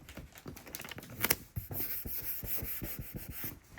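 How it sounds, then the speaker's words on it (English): Packing tape is pulled and pressed onto a large, sturdy cardboard shipping box holding a painting, giving a rasping rub followed by a rapid series of short scratchy strokes, close and fairly loud. "We're adding lots and lots of tape, more than you think you need, just to make sure that it stays closed"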